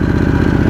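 A 2021 Harley-Davidson Pan America motorcycle engine idling just after starting, a loud, close, rapid, even mechanical pulse with a steady low throb.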